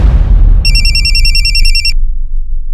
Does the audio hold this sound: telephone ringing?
yes